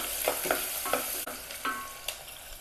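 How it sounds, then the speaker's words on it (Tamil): Small onions sauté in hot oil with a continuous sizzle, broken by a series of scraping stirs and light clicks of a utensil against the pan, close and clear, with no talking. "இப்போ இதை எண்ணெயில் நல்லா வதக்கிடலாம்"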